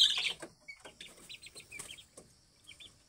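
A fighting rooster crossbred with labuyo junglefowl gives soft, close clucks and a few short chirpy notes, with a brief louder sound at the start and no speech.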